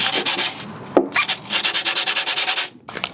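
Close, rapid back-and-forth scrubbing of coarse 80-grit sandpaper over body filler on a Honda Transalp fairing, brisk rhythmic strokes with a brief pause partway through.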